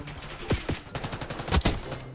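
Gunfire from a weapon in Black Ops 6, a cluster of sharp loud shots at close range with a few spaced bursts, ringing out alone without talk.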